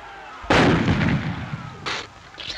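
Cannon and gunfire in a pirate battle, a loud booming blast followed by a decaying rumble and two shorter shots, with no speech.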